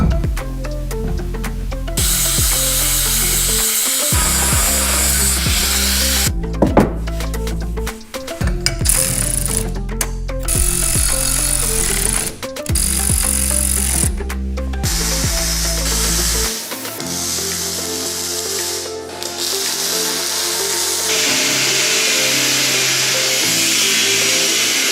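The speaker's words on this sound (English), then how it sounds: "then we're going to clean it up with the flap wheel" A flap wheel on a power tool cleans a steel part for a first fabrication project, a loud continuous grinding whir with rattling texture and short breaks, running close for the whole stretch.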